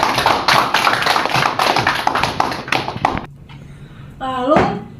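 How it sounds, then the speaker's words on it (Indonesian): A classroom of high school students in an eleventh-grade maths lesson claps for a classmate: dense, rapid, fairly close applause for about three seconds that stops abruptly, followed by a brief voice. "beri tepuk tangan buat teman kita"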